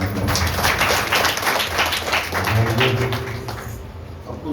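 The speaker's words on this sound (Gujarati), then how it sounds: "એક જોરદાર તાળીઓથી મોહન બાપુને" An audience at a devotional temple festival claps loudly for a revered religious figure, with dense, sustained applause filling the space that eases slightly toward the end.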